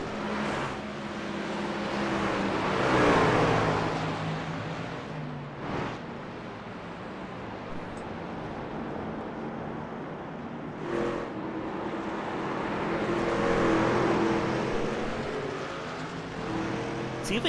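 Ford F-150 stock trucks racing on the Circuit Gilles Villeneuve road course, engines droning continuously with rising and falling revs as trucks pass, loud and steady with no talk.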